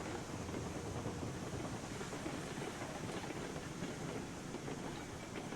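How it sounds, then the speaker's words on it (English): A train rolls along the tracks toward an iron pile in the railroad game Railroads Online, with a steady, continuous rumble and rail noise that holds at a constant level throughout. "I will let the train jog up to the iron pile here."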